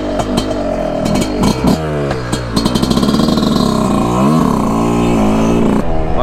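A motorcycle rides on a dirt track in a small meadow, its engine loud and close, revving up and down repeatedly with rising and falling pitch and occasional clattering, no talking heard.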